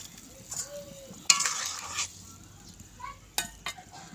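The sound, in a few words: cumin and coriander paste stirred into simmering fish curry broth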